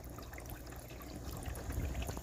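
An air stone bubbles steadily in actively aerated compost tea, giving a continuous close watery burble and trickle with no voices.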